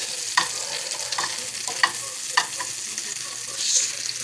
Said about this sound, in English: we just want to get a little color on these asparagus